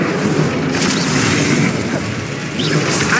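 A fire spell cast in a Harry Potter video game: a dense, loud, sustained roaring whoosh of flame that fills the whole moment with steady crackling energy and no pauses.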